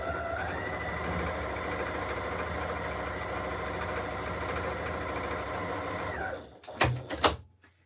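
A sewing machine runs steadily for about six seconds stitching the seams of a flying geese fabric basket, with a smooth whirring hum that stops abruptly, followed by a few brief clunks and clicks.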